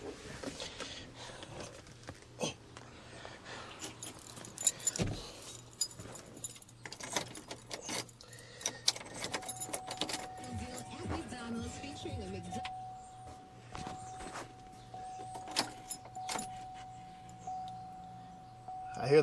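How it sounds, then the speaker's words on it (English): A 2003 Monte Carlo SS sits with its fuel pump being cycled to prime, giving a faint steady hum under clicks, key jangles and handling noise, with scattered bangs throughout. "I hear the pump."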